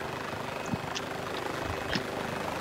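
A video game helicopter whirs steadily with a continuous rotor drone throughout, loud and close, with a few faint knocks and no talk over it.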